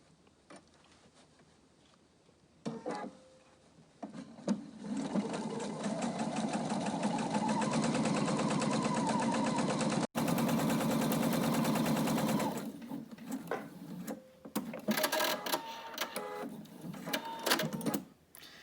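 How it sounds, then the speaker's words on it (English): Sewing machine stitching a fabric face covering: a quiet start, then a steady mechanical whir of rapid stitches for about ten seconds, followed by scattered clicks and handling noises. "you're sewing with the green side up this time"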